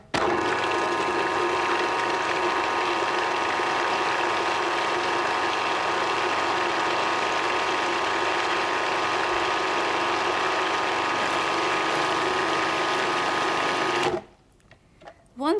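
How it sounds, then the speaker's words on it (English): An electric blender whirs steadily and loudly while blending tandoori marinade with onion, garlic and ginger, running nonstop for about fourteen seconds before switching off abruptly. "I'm going to blend this second marinade"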